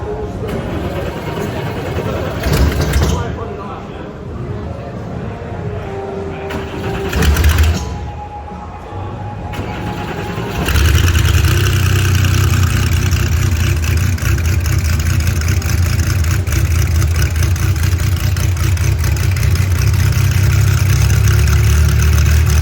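An air-cooled Porsche race car of American Le Mans Series style cranks and fires up, after a few bursts of activity, then settles into a loud, steady, rough idle that continues to the end, with people talking faintly early on.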